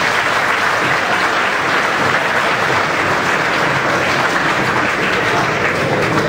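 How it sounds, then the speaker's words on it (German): An audience at a volunteer fire brigade's 118th anniversary event in Woltersdorf applauds, giving a dense, steady wash of clapping that carries on evenly throughout without fading. "Applaus"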